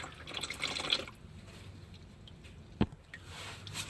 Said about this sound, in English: Alright, we got a little bit of a drip